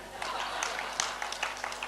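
An audience applauds with scattered claps over a steady low hum, sparse and moderately loud rather than a full ovation, with some voices around it.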